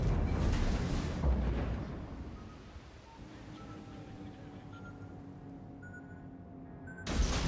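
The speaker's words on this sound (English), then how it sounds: "I spot an opportunity to torpedo the North Carolina and I take it" In the naval game World of Warships, a heavy cruiser Atago launches torpedoes at the battleship North Carolina: a loud, deep boom opens, fades into a low rumble with faint tones, then a second sharp burst hits at the end.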